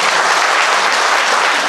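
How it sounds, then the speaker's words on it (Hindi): An audience at a Jain religious gathering at Rana Pratap Bagh breaks into loud, dense applause. The many hands blend into a continuous close roar that lasts the whole moment, with no talking over it. "दोनों हाथ उठाकर जोरदार तालियों से अभिवादन करें"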